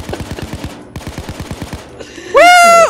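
Automatic gunfire in the video game Payday 2, two quick rattling bursts of rapid evenly spaced shots, loud and close, then a brief pause and a bright rising electronic tone at the end.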